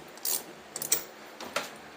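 A ratchet tightens headlight mounting bolts on a Honda Odyssey FL350 with KC lights, producing a few quiet, close bursts of clicking spread over two seconds, with no talk.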